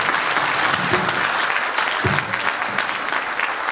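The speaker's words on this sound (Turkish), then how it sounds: "beyefendiler için de ayrıca bir alkış" A hall audience claps for police officers and guests at a choir concert, dense sustained applause with a couple of louder individual claps standing out, close and continuous.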